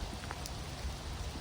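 Rain falls outdoors as a soft, continuous patter with a few nearer drops, fairly faint, with no voices.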